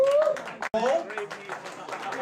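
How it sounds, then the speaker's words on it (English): At a poetry reading, a small audience applauds a poet with scattered hand claps and voices calling out, a brief, close burst broken by a short gap of silence. "Let's keep that applause going"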